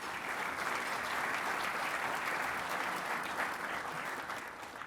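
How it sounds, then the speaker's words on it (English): Audience in a lunchtime mining club event in Sydney clapping for sponsors, a full, steady round of applause that holds evenly and begins to fade near the end. "how about a round of applause for our sponsors"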